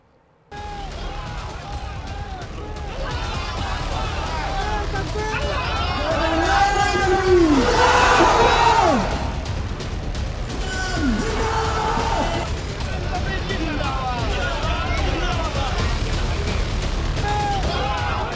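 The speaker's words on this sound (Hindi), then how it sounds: "पश्चिम बंगाल के मुर्शिदाबाद में हजारों की भीड़ उमड़ी" A huge crowd of thousands gathered in Murshidabad, West Bengal, makes a loud dense roar of voices and shouting that stays steady and swells in the middle, with many people calling out at once.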